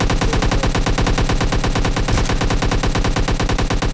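Rapid automatic gunfire from PUBG Mobile, a steady unbroken stream of loud shots with no talking.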